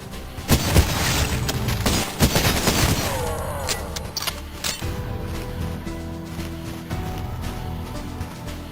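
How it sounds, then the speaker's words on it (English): Pistol shots fire rapidly in an Unreal Engine video game, with a cluster of sharp, loud cracks early on followed by a few scattered shots over game background sound. "I've got plenty of pistol ammo. I can just rapid fire this."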